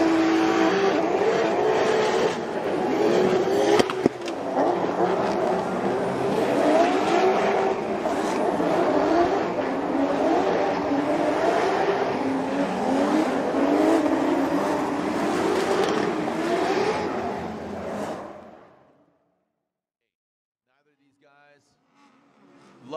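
Formula Drift cars at a track roar and rev hard while drifting, with continuous engine noise, tire squeal and crowd-level din over about eighteen seconds before fading abruptly, with a commentator's voice mixed in.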